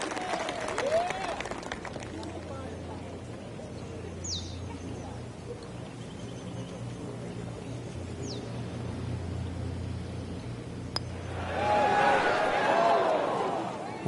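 A golf video game crowd gives a swell of applause and cheering near the end, after a stretch of commentary and soft ambient murmur.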